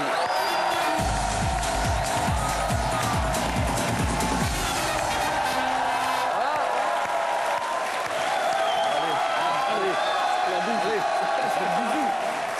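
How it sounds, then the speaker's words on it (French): A studio audience applauds a television talk show's guests, a dense wash of clapping that swells and holds throughout, mixed with crowd noise and a voice speaking over it. "Je vous demande d'applaudir Jean-Baptiste Monnier et James Hutt."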